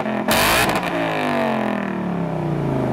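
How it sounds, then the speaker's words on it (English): Ford Mustang GT from 2018 with its exhaust set to track mode, a loud, steady engine drone with a sharp rev blip near the start, then a sustained throaty rumble at close range. "And here is the exhaust in track."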